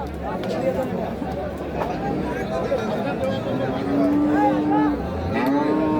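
At a rural cattle market where beef cattle are sold, a cow lets out long, fairly loud moos partway through, rising over a constant crowd of bargaining voices and chatter.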